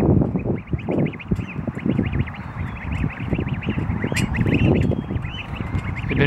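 Geese honk continuously in a noisy, overlapping flock close by, their harsh nasal calls repeating without pause against a rumbling background.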